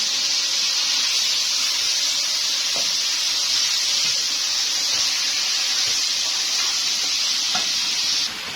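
Chicken pieces sizzling loudly in hot oil with frying garlic, a steady bright hiss across the whole stretch with faint stirring knocks, then a sudden drop at the very end.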